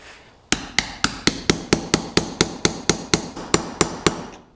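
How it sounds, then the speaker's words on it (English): Hammer driving a new seal into a Dana 20 transfer case on an early Ford Bronco, a quick, even series of about sixteen loud, sharp metallic strikes, close up and alone. "And then we're going to drive on our seal."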